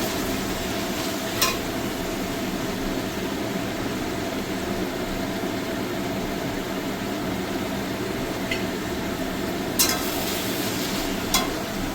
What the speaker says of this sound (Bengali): এবার আমি দিয়ে দেবো ম্যারিনেশন করা চিকেনটাকে।